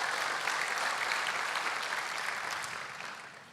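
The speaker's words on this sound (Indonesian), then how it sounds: "Berikan tepuk tangan buat Tuhan Yesus" A church congregation claps in a dense, continuous burst of applause that fades away toward the end.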